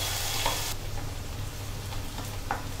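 Chopped ginger, garlic and chilli fry in hot oil in a wok over a full flame, a steady loud hiss and crackle with a few soft stirring knocks.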